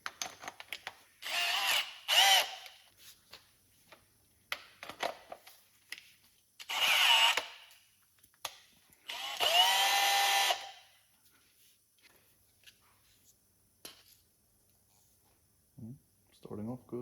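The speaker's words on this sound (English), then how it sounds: "drilling machine." A bench drilling machine spins a bolt turned down to fit its chuck, loud whirring bursts starting and stopping several times with clatter and handling noises between, while machining a wheel loader quick coupler bushing.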